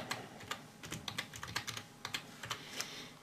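Keys clatter on a computer keyboard in quick, uneven bursts of close, crisp taps, with short pauses between runs and no talking.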